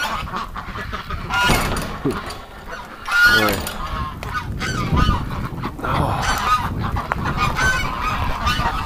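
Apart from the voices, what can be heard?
ducks and geese honking in farm pen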